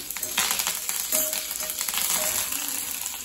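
Curry leaves and green chillies dropped into hot oil sizzle and spit steadily in a pan, close up. Stirring adds light scraping pulses, and no one speaks.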